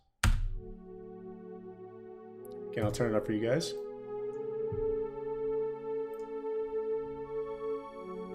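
Sustained synth pads built from the Profit Pad B and Greenhouse B layers in a Honest Cascading Filters preset hold steady chords throughout a trap beat, with someone talking over the start.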